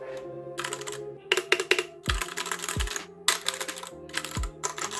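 Close, brisk typing on a new ADX computer keyboard, bursts of clattering key presses with short pauses between and deeper thumps of larger keys, nothing else heard.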